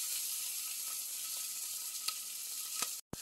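Two crushed garlic cloves frying on caramelized onions for onion soup with cheese, a steady close sizzle with a few soft stirring clicks and a brief break near the end.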